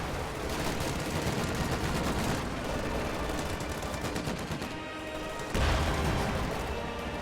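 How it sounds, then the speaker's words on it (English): Video game battle with riflemen firing, dense continuous rattling gunfire and bursts layered together, loud throughout with a heavier thump near the end. "more riflemen move up into closer range, start to engage"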